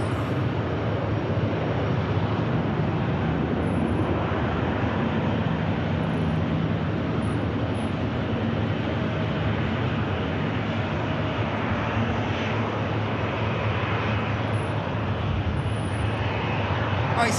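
Emirates airliner taxiing at Manchester Airport, a steady broadband jet engine roar holding constant throughout, with no talk over it.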